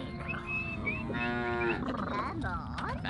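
A cow moos in the Beasts and Bumpkins strategy game, several drawn-out lowing calls in quick succession, close and clear over a light background bustle, without speech.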